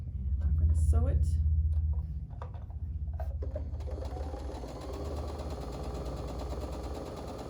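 Sewing machine stitching pieces of fabric together, a steady faint mechanical whirring with light rhythmic clatter that starts partway through after some handling noises and muffled talk.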